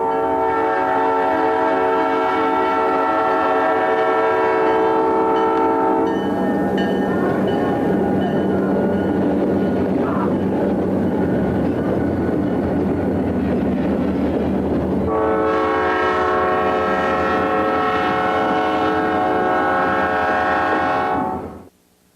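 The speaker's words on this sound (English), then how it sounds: "SD45 number 3140, running so-called hammerhead style, long hood forward, leads SD40 3182 and SD40-2 3282 on a freight slowly through Valdosta." Southern Railway SD45 diesel locomotive, long hood forward, leading an SD40 and SD40-2 on a freight moving slowly through Valdosta: sustained loud engine throb with a long horn blast at the start and another near the end, no talk.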